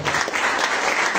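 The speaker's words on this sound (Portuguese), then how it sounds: "Vamos aplaudir Jesus nessa hora" Church congregation applauding during a worship service, a brief dense burst of many hands clapping together at close range.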